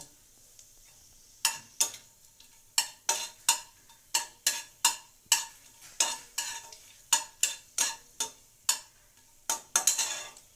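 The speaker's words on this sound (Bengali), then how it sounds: "নেড়ে চেড়ে পেঁয়াজ বাটা দিয়ে দেব।" A spoon scrapes and stirs onion paste with whole garam masala in a pan for chicken korma, about twenty sharp strokes in a steady, close rhythm over a faint sizzle.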